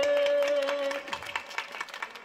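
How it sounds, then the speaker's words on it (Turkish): Audience applause for a singer's voice at a village lament, a dense patter of clapping that builds after a sustained tone fades, then continues in uneven bursts. "Evet, bu ses bir alkış hak ediyor."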